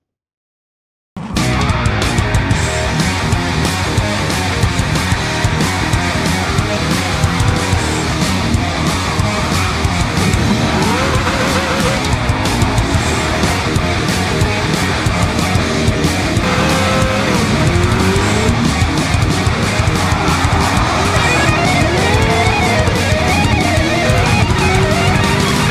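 Several cars race flat out down a main straight in Gran Turismo 7, engines droning loud and continuous with no letup, layered revs rising and overlapping throughout.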